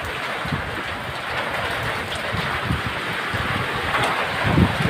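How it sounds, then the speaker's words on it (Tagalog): Strong typhoon wind roars steadily with a dense, rushing blow that swells slightly toward the end, with no voices, in Norzagaray, Bulacan. "Nako, grabe. Lakas ng hangin."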